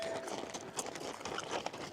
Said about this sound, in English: 6 horses.